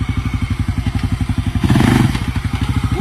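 Kodiak 400 ATV on 31-inch Outlaw tires, its engine chugging close by in a fast, even rhythm of pulses, briefly rising in a short burst of throttle before settling back to the same steady running.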